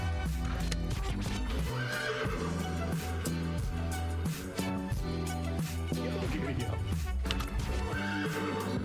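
Horses in a video game, with repeated whinnies and neighs and a rhythmic clip-clop of hooves layered over a busy game soundtrack, loud and continuous throughout.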